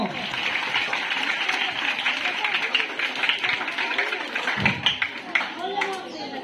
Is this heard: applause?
yes